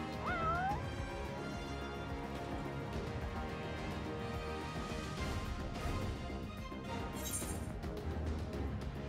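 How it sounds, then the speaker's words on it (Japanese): A cat meows in the Final Fantasy XV video game, a couple of short meows near the start over steady game music and ambience. "猫がいる。"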